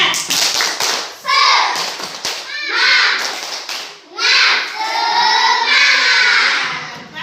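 Children in a classroom clap hands in rhythmic bursts, close and loud, with excited young voices shouting and chanting between and over the clapping.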